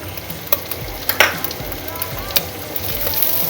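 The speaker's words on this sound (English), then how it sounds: "I'm gonna add in my onions." Onions dropped into a pan of browned beef, crackling and sizzling loudly up close as a utensil scrapes and stirs, with a few sharp clicks over a steady frying hiss and no talking.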